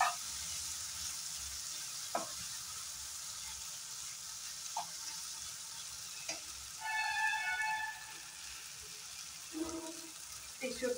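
Onion, potato and tomato fry in a pan with a soft, continuous sizzle, dotted with occasional utensil clicks and a short watery trickle partway through.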